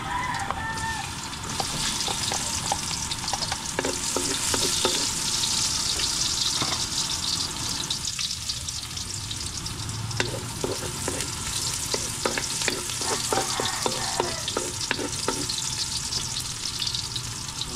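Ginger and garlic sizzle steadily in a hot pan for adobong pakol, a continuous bright frying hiss with occasional stirring clinks, close and fairly loud; a rooster crows faintly in the background.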